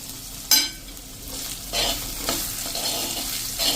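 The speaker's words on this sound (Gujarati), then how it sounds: "તેલમાં જ આપણે ઘીમાં જ આપણે આ વેજીટેબલને સાંતળી લેવાના છે" Vegetables being sautéed in ghee and oil, with a near, steady sizzle, stirring scrapes and a few louder clanks in the pan, and no talk.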